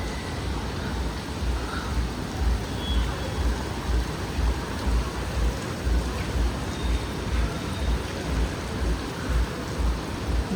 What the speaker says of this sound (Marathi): तर हा पहा ॲमेनॉर आणि इथला पाऊस